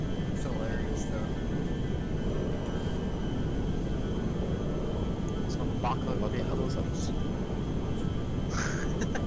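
A propeller cargo plane in GTA drones as a constant loud rumble while it flies, with a person talking briefly over it.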